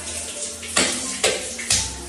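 Water runs through a newly installed water heater to push out trapped air, heard as close, loud gushing that comes in three quick surges.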